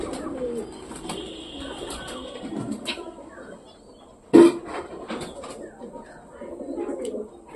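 Pigeons coo and murmur close by in a loft, with a sharp burst like flapping wings midway and quiet background noise.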